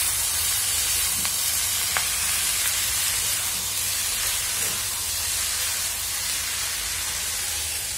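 Steady, even sizzle of shrimp, onion, garlic and cabbage frying in a pan, a continuous close hiss with faint stirring clicks and no talk.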